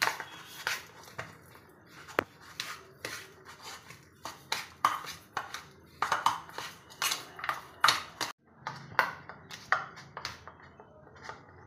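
Spoon scraping and clinking against a bowl while mashed potato is mixed with turmeric, red chili powder and coriander powder, a steady run of quiet metallic taps and scrapes with a brief pause.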